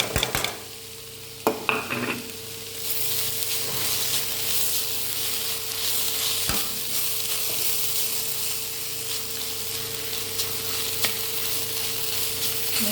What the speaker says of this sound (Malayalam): മീഡിയം ഫ്ലെയിമിൽ വെച്ചിട്ട് ഇളക്കി കൊടുക്കാം.